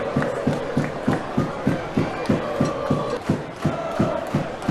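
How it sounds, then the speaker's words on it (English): A football crowd at a Brisbane Roar versus Brisbane City match cheers and chants after a goal, with rhythmic clapping and a loud collective roar from the stands. "And the crowd are happy."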